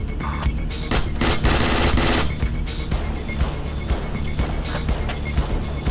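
Heavy automatic gunfire in the military shooter game Project Reality, dense sustained bursts rattling loudly up close, then sporadic shots continuing under battlefield noise.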